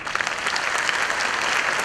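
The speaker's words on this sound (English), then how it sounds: "Shall we clap our hands?" An audience claps for a speaker at a CISCE address, a dense, steady burst of many hands applauding at close range with no talk over it.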